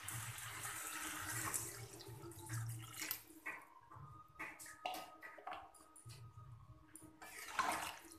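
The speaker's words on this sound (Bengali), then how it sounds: "এবার আমি দিয়ে দেবো জল।" Water is poured into a cooking pan holding spiced potatoes and cauliflower, giving an irregular splashing and gushing that comes and goes over several seconds, close and fairly loud.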